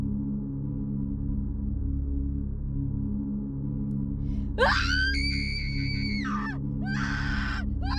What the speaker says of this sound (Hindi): दोबारा से चीखने की आवाज उसके कान में पड़ी।